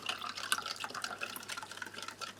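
Cold water and iced tea powder with sugar granules are stirred together in a field ration, giving soft sloshing and clinking liquid sounds, faint and close, with no speech.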